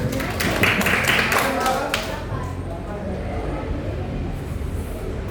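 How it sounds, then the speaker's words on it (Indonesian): A classroom of students claps for a classmate, a brief burst of scattered hand claps that dies away after a couple of seconds into room noise, with voices around it. "Kasih tepuk tangan dulu buat temennya."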